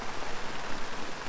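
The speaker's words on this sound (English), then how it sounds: "wow, like torrential downpour." A torrential downpour falls on a sailboat at anchor near Annapolis, giving a dense, loud, continuous hiss of rain with no voices.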